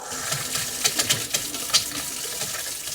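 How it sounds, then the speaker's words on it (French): Water running steadily from a sink tap inside a mobile home as the line is purged, a constant close hiss with a few sputtering splashes and bursts as air clears. "On va aller purger le lavabo."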